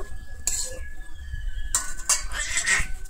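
Garlic and green chilli being mixed into pointed gourd in a pan for a Bengali potol bhorta: a few sharp metallic clinks and scrapes of a spoon against the pan, with soft clatter in between and faint background noise.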